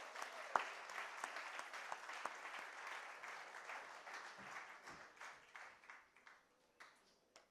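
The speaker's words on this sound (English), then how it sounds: "So let's just give a big round of applause to this Renaissance woman." Audience applause at a book launch, a dense burst of clapping that thins and fades toward the end, with a few scattered claps left.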